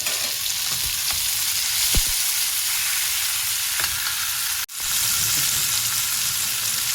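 Chopped onion and tomatoes fry in a pan with a steady, close sizzle that briefly drops out for a moment, with no voices.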